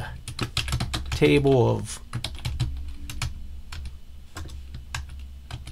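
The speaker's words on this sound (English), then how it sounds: "I'll be able to type information about the table here." Typing on a computer keyboard while working in Microsoft Word, with steady clicking keystrokes throughout, briefly overlapped by a short spoken phrase near the start.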